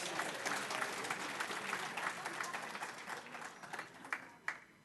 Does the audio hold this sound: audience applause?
yes